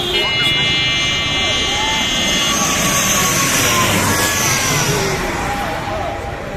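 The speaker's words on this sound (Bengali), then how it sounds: "ইউএস বাংলা এয়ারলাইন্সের ATR মডেলের বিমান আপনারা দেখতে পাচ্ছেন" Loud, steady roar of a US-Bangla Airlines ATR turboprop airliner passing close overhead, with a high engine whine, while a person talks over it.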